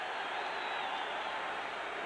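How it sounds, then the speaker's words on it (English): Crowd roar in the Rangers' hockey arena during a 1981 NHL playoff game against the St. Louis Blues, a steady, distant, hissing mass of cheering with no distinct voices. "Listen to this crowd."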